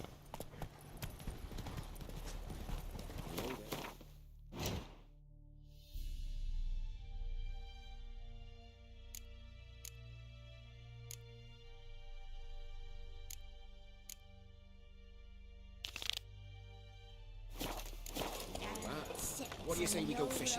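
Roach, the horse in The Witcher 3, runs with steady rhythmic clip-clop hoofbeats. Sustained game music and voices carry over the hooves, with brief louder bursts along the way.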